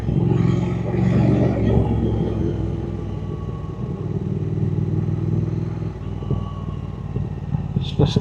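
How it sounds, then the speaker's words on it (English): A motorcycle exhaust burbles with a low, throbbing rumble as the bike rides past in fourth gear on an evening road, loud and continuous, with a second engine note fading in and out. "Just listen to that exhaust barbling"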